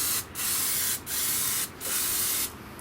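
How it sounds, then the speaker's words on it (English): Spray paint hisses onto aquarium glass outdoors in four steady, close bursts of fine, broad hiss separated by brief pauses, with no voices. "You can see how fine the spray is coming out."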